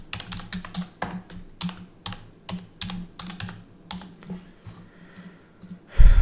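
Fingers type on a computer keyboard while a blog post is written, with irregular bursts of crisp key clicks and short pauses between them, close and clear.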